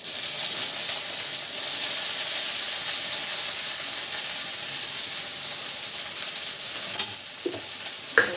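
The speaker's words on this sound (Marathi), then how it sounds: "मुगाची डाळ थोडीशी धुवून घेतली बघा टाकते आता तेलामध्ये" Washed moong dal hits hot oil and sizzles with a steady, close frying hiss that carries on for several seconds, with a few sharp crackles and stirring knocks near the end.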